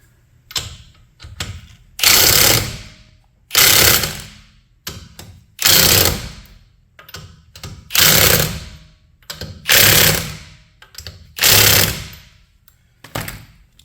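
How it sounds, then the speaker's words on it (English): Wheel spacer bolts on a rear Porsche 911 (991, 15mm spacers) are run in with a power impact tool, making seven loud, evenly spaced whirring and rattling bursts of about a second each, close up, with quiet pauses between. "So we're going to go ahead and tighten these up and see how it goes."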